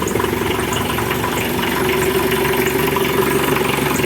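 A car engine idles just after a cold start, a loud, close, steady rumble with an even pulsing throb throughout.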